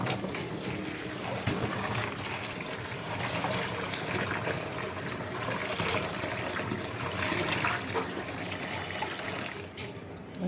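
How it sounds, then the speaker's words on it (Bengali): Running water splashes and gushes steadily as ingredients for tamarind chutney are rinsed, a continuous close wash with no pauses. "এগুলোকে ভালো করে ধুয়ে পরিষ্কার করে নিতে হবে।"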